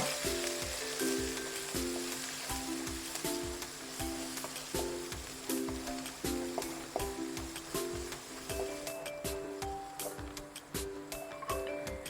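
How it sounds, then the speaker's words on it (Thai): Steady sizzling as Thai garlic-coriander-pepper paste is stir-fried in a hot pan, with rhythmic scraping and stirring strokes, a close, continuous frying sound with repeating tonal clinks of utensil on metal. "พอกระทะร้อนแล้วเราก็ใส่สามเกลือลงไปผัด"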